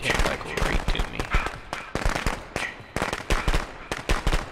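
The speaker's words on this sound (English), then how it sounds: "And I just accidentally threw fireworks." Fireworks in the Friday the 13th video game crackle and pop in rapid, dense bursts, loud and close, with irregular clusters of bangs throughout.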